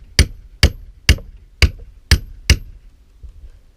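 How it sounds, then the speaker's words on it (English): A hammer pounds a metal chainsaw clamp into a log, six sharp, ringing strikes at an even rhythm, close and loud, with short decays between blows. "So the first thing that we gotta do is pound this in."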